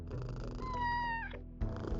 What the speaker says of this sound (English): Gotta pet the kitty.